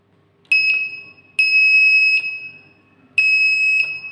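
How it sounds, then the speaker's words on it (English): A shrill electronic buzzer, driven through a relay by a push switch in an electronics lab circuit, sounds three times, each a steady tone held for about a second or less, loud and close with silence between. "Once you press, buzzer sound will come."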